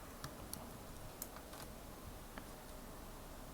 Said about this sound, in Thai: ก็พิมพ์ IP config